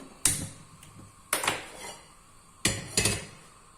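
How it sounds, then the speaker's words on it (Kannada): A pressure cooker is set onto a kitchen stove for radish saaru, giving four sharp metallic clanks in two pairs, close and fairly loud, with brief ringing between and no talk. "ಸ್ಟವ್ ಆನ್ ಮಾಡಿ ಕುಕ್ಕರ್ ಇಡ್ತಾ ಇದ್ದೀನಿ."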